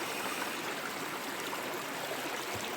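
Creek water on a hot July day beside a forest: continuous, close, babbling flow with a steady trickling hiss and no pauses or voices.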